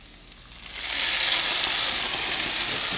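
Salsa hits a hot pan and a steady, loud sizzle takes over, a broad hiss that holds evenly until the end, with no voices.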